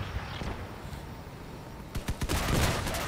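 Trombone weapons fire inside a cave in the vehicle combat game Crossout, a quick burst of sharp blasts arriving in a tight cluster near the end after a steady low rumble.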